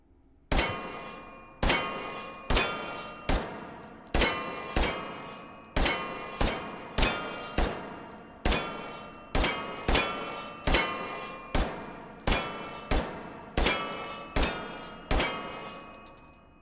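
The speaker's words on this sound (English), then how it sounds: "That was the Glock 17." Glock 17 pistol gunshots in the VR shooting game H3VR: around twenty sharp, ringing reports fire one by one at roughly one-second intervals, each with a short metallic decay, and no voices.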